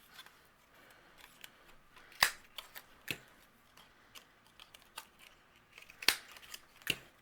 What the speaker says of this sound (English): what I'm going to do is punch out 2 stars, and I have a star punch